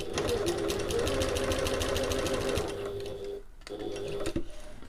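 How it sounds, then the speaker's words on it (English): A sewing machine bastes along the short folded edge of fabric for a backpack, a close, rapid mechanical chatter that runs steadily, slows briefly near the end, then restarts. "just baste along this side short edge just to hold those edges"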